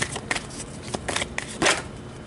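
A tarot card deck is shuffled by hand in quick riffling bursts, close and crisp, with no talking.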